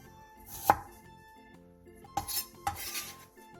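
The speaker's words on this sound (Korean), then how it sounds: "생강 2톨을 편 썰어주세요." A knife slices two pieces of ginger into thin pieces on a board, giving one sharp chop followed by a cluster of several quicker cuts, close and clear with no talking.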